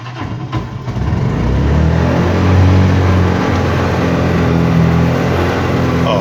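A carbureted motorcycle engine cranks and catches with the choke pulled, then settles into a loud, steady fast idle that stays raised without throttle.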